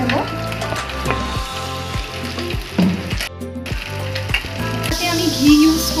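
Vegetables for egg fried rice frying in a pan over a high flame, with a steady sizzle broken by repeated clanks and scrapes of a spatula stirring against the metal, close and fairly loud, without talk.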